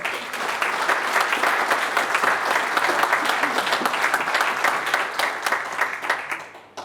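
Audience at an Unser Land campaign meeting in 2022 applauding, dense sustained clapping from a crowd that holds steady and then tapers off near the end.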